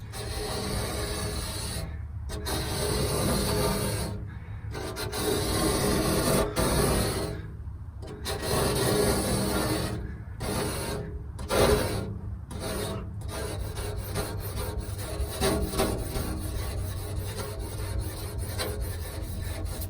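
A razor blade scrapes hard water stains off glass in repeated rasping strokes with brief pauses between passes, close and fairly loud with no talking.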